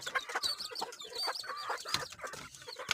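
Several chickens on a small farm cluck and chatter close by in a busy, overlapping flock, with no talking.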